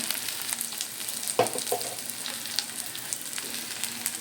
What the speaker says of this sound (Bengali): এই জিরের গুঁড়ো একটু নাড়বো।